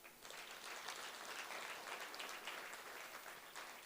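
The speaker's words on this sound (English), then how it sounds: "I'm going to request the audience also to just applaud them" Teaching awards ceremony audience applauding, a broad, even wash of many hands clapping that holds steady throughout, fairly distant and uniform with no voices over it.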